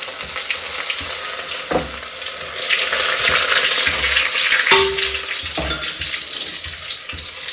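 Chopped green garlic and sweet neem leaves crackle and sizzle in hot oil in a home kitchen pan, a steady frying hiss with a few knocks and clinks of utensils and no voices.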